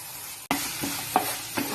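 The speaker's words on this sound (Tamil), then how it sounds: "அதோட அதையும் போட்டு நல்லா மிக்ஸ் பண்ணி வதக்கிக்கலாம்." Garlic masala paste for dosa is sautéed in a pan, sizzling and frying, with a sudden jolt of sizzle as it hits, then a few distinct scrapes of the spoon stirring it close by.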